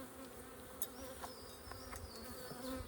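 Honeybees buzzing in a nuc beehive, a close, continuous hum with individual bees passing by, no talking.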